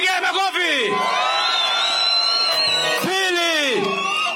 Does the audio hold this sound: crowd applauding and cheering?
yes